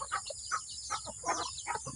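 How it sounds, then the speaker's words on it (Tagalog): Several chickens cluck in quick, irregular bursts close by, with a steady high hiss running underneath. "ito ako ngayon nagpapakain ng aking mga alagang manok"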